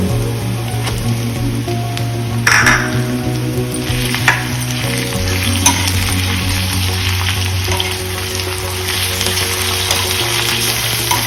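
Prawns fry Goan style in a pan, a loud continuous close sizzle with a low steady hum beneath and occasional faint clinks, with no voices.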